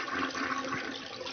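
A toilet flushes with a brief, rushing burst of water, steady and moderately close, heard on its own.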